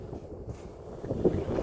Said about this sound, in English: it's kind of windy in Texas today